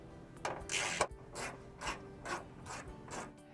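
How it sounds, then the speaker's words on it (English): An 8mm socket on a ratchet loosens hood scoop nuts on a 2022–2023 Subaru WRX, making short, quiet bursts of clicking and grinding, close by, about six or seven strokes with brief pauses between them. "with an 8mm socket, we're going to remove our 4 pieces of attachment hardware"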